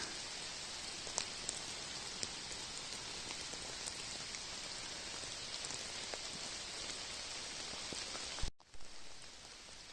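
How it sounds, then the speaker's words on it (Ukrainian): Steady rain falls on the trees of a Carpathian mountain forest in April, a soft continuous hiss with scattered distinct drips, briefly interrupted by a short cut near the end. "Дощик паде."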